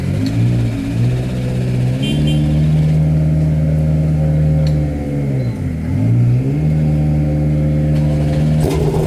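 A Porsche race car engine revs loudly nearby, its pitch rising and falling in long sweeps with a brief dip partway through.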